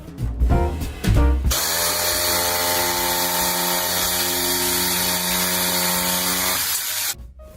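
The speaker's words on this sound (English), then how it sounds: "And it's always fun using my jigsaw." A jigsaw cuts steadily through a wooden sign in one sustained, loud, buzzing run of about six seconds, starting after a few short bursts and stopping abruptly near the end.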